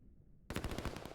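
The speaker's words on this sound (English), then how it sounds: "First gunfire, but neither person dies." Rapid automatic gunfire in the strategy video game Line War bursts in suddenly after a near-silent moment, a loud, fast string of cracking shots with no voices over it.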